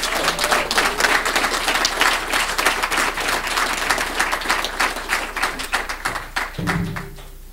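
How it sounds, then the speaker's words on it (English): Audience at a people's conference for jobs and justice applauding: a dense burst of hand-clapping from a crowded room that holds steady and then thins out toward the end. "Give her a round of applause."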